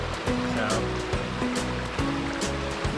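The Logan River running low over rocks, a steady close rushing and burbling of water with rhythmic splashing surges, loud throughout.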